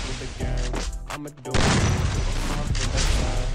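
Free Fire gunfire bursts in fast, loud, dense volleys, with a short stutter of shots giving way to a sustained rattling barrage that continues to the end.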